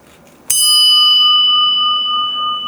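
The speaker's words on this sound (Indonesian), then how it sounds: "dia itu suaranya itu nyaring kalau kita pukul menggunakan obeng ya" A carbon steel motorcycle steering cup struck once with a screwdriver gives a sharp metallic hit followed by a bright, sustained ringing tone that lingers for a couple of seconds, close and alone.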